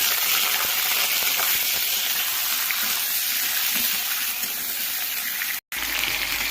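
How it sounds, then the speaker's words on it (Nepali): Mutton pieces frying in a hot wok with garam masala, a loud dense sizzle and crackle that runs without a break, cut by a brief dropout near the end, no voices. "अब यसमा म मटन हालेर यसलाई मजाले फ्राई गर्छु।"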